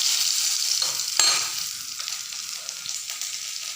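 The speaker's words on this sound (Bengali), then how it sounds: "এখন আমি ফোড়ন দিয়ে দিচ্ছি" Whole spices tempered in hot oil for a koi fish curry with bean seeds and potato, a loud close sizzle and hiss, a sharp burst as ingredients hit the pan, then steady frying with faint stirring.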